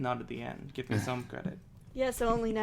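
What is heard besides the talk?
No distinct noise like a dog, phone or traffic.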